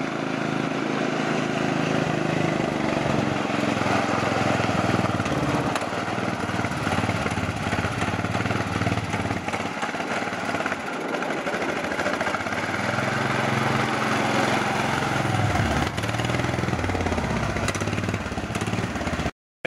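Small golf cart engine with a fuel problem running rough, a steady loud buzzing drone with uneven surges and dips throughout, close by, ending abruptly.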